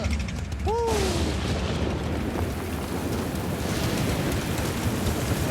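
Steady rain pours down outdoors during a Tour de France stage from Vittel to Colmar, a continuous loud hiss with low rumbling underneath, plus a couple of brief rising whistle-like tones early on.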